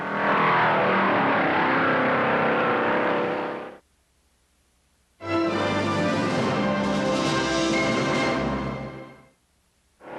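A 1958 Southern 500 stock car roars past at full throttle on the high-banked track, loud engine noise sweeping by, then a brief gap before another car thunders past, close and alone without talk.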